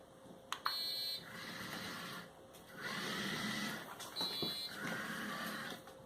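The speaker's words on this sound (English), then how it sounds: "So if it senses something in medium range, it's supposed to do a low beep and turn left." Small hobby robot with an ultrasonic distance sensor emits a series of electronic beeps, a short pair of clicks then steady tones at about two pitches, alternating with quieter gaps, close and fairly clear over faint room noise.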